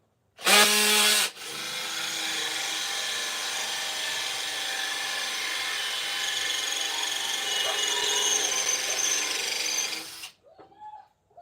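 A power drill whines steadily for several seconds, boring a hole through camper van upper cabinet material at close range, then stops, with a short burst of revving at the start.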